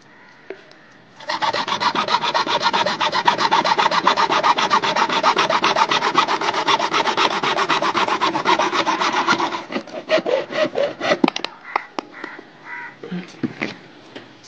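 A piece of wood is cut with a hand saw in steady, rapid back-and-forth strokes lasting about eight seconds, close and loud, then slowing into a few scattered scrapes and knocks.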